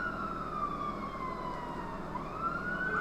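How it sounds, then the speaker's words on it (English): Fire engine siren wails steadily and continuously throughout, a fairly loud sustained two-tone-like rising and falling pitch over low traffic rumble. "Fire engine."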